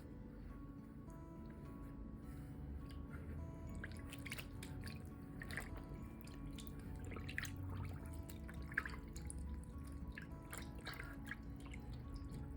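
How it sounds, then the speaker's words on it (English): A shirt from an embroidery kit being submerged in a sink basin of water, giving faint soft sloshing, drips and small splashes at close range in a quiet room, with no talk. "We're going to take our shirt and we're going to submerge it"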